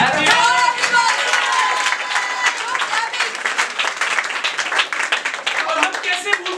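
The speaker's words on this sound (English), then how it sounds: "So guys, give a round of applause for this." A crowd at a felicitation celebration gives a loud, dense round of applause that continues for several seconds, with voices and cheering mixed into the clapping.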